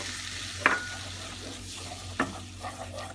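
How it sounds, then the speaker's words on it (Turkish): Flour being stirred into melted butter in a pot for béchamel sauce, a soft continuous sizzle with a few sharp scrapes of the spoon against the pot, fairly quiet, no speech. "İçerisine 3 yemek kaşığı un ilave edip hepsini karıştıralım."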